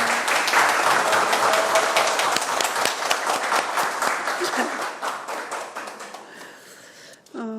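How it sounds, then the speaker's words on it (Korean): Applause from members and officials at a Korean education committee session, honouring a retiring library director; dense, steady clapping that thins toward the end, with a brief voice entering at the close. "다시 한번 큰 박수 부탁드리겠습니다."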